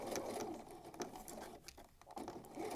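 A sewing machine runs steadily on its own, stitching a seam with back stitches on a medieval-style overdress, its close, fast patter going uninterrupted with no talking.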